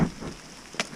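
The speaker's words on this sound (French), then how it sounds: "Parce que il pleut sa race." Heavy rain falls through a misty forest along a Suisse Normande trail, a dense steady hiss with occasional louder splashes and a brief sharp spike near the end, no voices.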